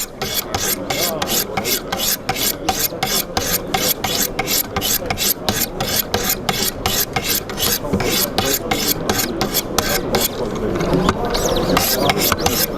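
Steady rhythmic rasping as a knife blade is drawn across Wicked Edge abrasive stones, at a higher grit to refine the bevel apex, with even strokes repeating about twice a second, close and loud, with no talk.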